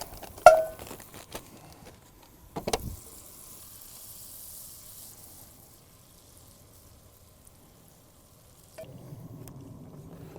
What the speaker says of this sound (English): I'm going to start with my nice cast iron pan on the camp stove. Going to get 2 sticks of butter in there and get those melted down